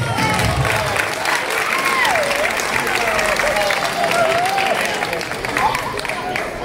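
Audience applause at a casting for a princess and knight role with La Cucafera in 2024, a dense, steady wash of clapping with some cheering voices and crowd chatter running throughout.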